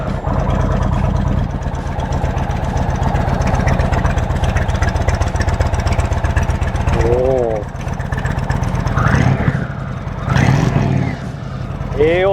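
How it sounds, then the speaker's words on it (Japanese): A deep, rumbling Indian Springfield Limited motorcycle engine idles steadily and loudly, with a few short voices speaking over it and brief revs near the end. "エンジンのサウンド、排気音チェックしていきます"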